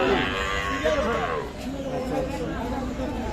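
Cattle at a busy rural cattle market (haat) in Bangladesh, with a low bovine call heard amid crowd murmur and chatter at moderate distance.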